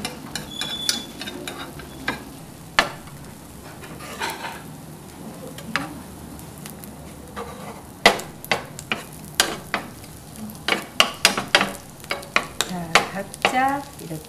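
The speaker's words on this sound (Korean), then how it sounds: "양파도 볶아주시고 양송이도 볶아주시고 그리고 피망" Onion, mushrooms and bell pepper stir-fried in melted butter in a pan, a continuous soft sizzle broken by repeated sharp clicks and scrapes of a utensil against the pan, growing busier toward the end, with no talk.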